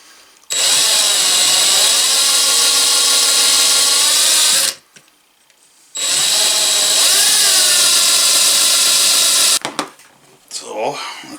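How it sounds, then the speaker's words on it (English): A power drill spins a file pressed against it, making two long, loud, steady whirring runs separated by a short pause, with pitch wavering as pressure shifts, then a brief scrape at the end. "I'm just going to put some pressure on the file towards the drill"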